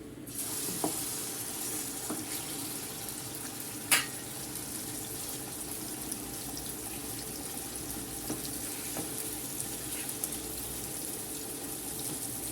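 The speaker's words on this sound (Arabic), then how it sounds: "الزيت عمل كده سخن، نحط الكبده" Liver pieces sizzle in hot oil with a constant, bright frying hiss, steady throughout, with a few faint clicks and one sharper tap.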